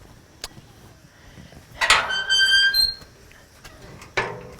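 A squeaky door at a compound creaks open with a drawn-out, high, wavering squeak lasting about a second, bracketed by short knocks and clicks, heard close and alone.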